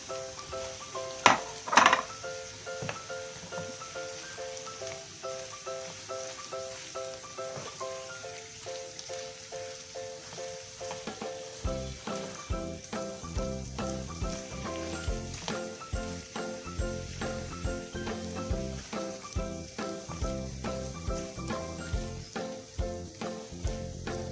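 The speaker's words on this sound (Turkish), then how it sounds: "patatesimi de ekliyorum." Boiled potatoes frying with egg in a pan give a soft, steady sizzle, joined partway through by regular scraping pulses of stirring, fairly quiet and with no voices.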